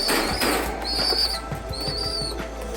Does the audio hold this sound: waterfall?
no